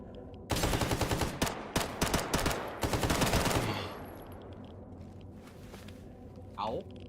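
Gunfire from a zombie in the Stalker GAMMA video game, a loud rapid burst of automatic shots lasting a few seconds, then fading into quieter background.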